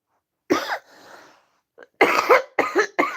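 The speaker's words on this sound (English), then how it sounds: "I'm still coughing, healing but coughing" A person coughs several times in quick, harsh bursts close by, separated by short pauses and a faint breath.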